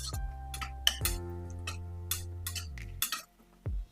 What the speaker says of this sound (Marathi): हे आमसूल देखील टाकून घ्यायचे एखाद मिनिट हलवून घ्यायचं याला